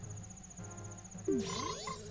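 A cartoonish frog croaks once from The Legend of Zelda: Majora's Mask 3D, a sharp pitched call with sliding tones over a steady game-music backdrop.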